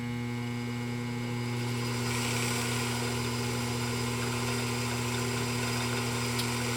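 A fully restored PFAFF 229 industrial sewing machine runs steadily under foot control, giving a continuous low motor hum with a faint whine that swells slightly partway through, close and unbroken, with no talking.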